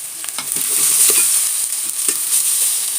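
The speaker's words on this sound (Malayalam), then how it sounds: "ഇതൊന്ന് നല്ലോണം ഒന്ന് വഴറ്റിയെടുക്കാം." Green chilies, curry leaves and grated raw mango being stirred and sautéed in a hot pan for raw mango rice, a steady close sizzle with scraping stir strokes throughout, no voices.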